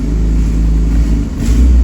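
A turbocharged Honda B20 engine revs in a car on a cold day, a loud, close, deep rumble that swells and dips briefly, with no talking.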